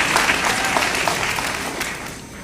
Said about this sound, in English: Let's give another round of applause for both of our honorees joining our